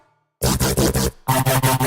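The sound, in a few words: electric shaver with hand over the blades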